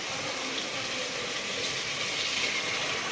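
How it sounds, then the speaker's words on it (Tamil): Coconut milk pours steadily into a cooking pot for biryani, a continuous soft liquid rush that holds an even level for the whole stretch. "இப்போ வந்து தேங்காய் பால் ஊற்றிக்கலாம்."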